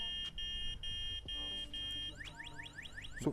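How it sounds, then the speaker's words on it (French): A loud anti-theft alarm on a DYU A5 folding mini electric bike blares nearby, first a steady pulsing beep, then a rapid rising whoop-whoop siren pattern repeating several times. "l'alarme reste en route tant qu'on veut le déplacer"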